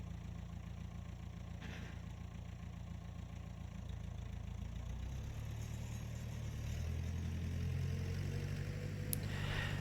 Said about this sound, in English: My old backhoe isn't as good as a skid steer for spreading out material